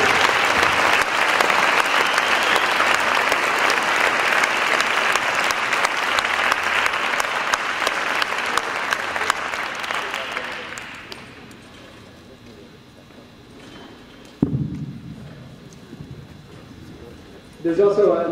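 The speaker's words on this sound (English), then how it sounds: "How about a big round of applause for all you guys?" Audience applause at a sports fellowship breakfast event, loud steady clapping for about ten seconds that fades out, followed by a quieter room and a brief burst of sound near the end.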